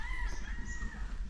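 A rooster at the Amahan Game Farm in Cebu crows clearly, with a drawn-out call rising above a low background hum.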